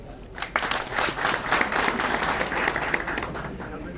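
Gathering of people applauding at a seed distribution event in Turkey, moderate steady clapping with a muffled, slightly distant quality over four seconds.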